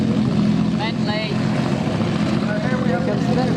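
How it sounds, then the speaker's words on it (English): A vintage Bentley racing car at the Brooklands Double Twelve Memorial roars past with a loud, continuous engine drone close by, under people talking nearby. "Here comes the Bentley."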